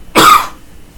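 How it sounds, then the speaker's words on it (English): A single short, sharp cough comes from one person close to the microphone, with quiet surroundings before and after. "Sorry, I'm gonna cough."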